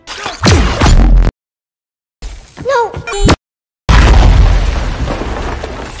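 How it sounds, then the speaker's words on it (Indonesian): Explosions and impacts from a film battle with a sticky grenade, heavy booms separated by abrupt silent gaps, with a whooshing pitch-swept effect in the middle and a long rumbling blast at the end. "Di saat yang sama, Harun datang menembakkan granat tempel ke Howell."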